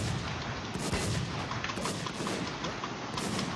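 Repeated heavy gunshots in the survival shooter WarZ, loud booming reports recurring roughly every second over a dense noisy background, with no talk.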